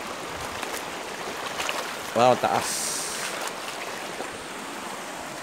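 A fast current on a river running from Ipo Dam to Bustos Dam in Norzagaray, Bulacan, gives a steady, broad rushing wash throughout, with a brief exclamation from a voice partway through.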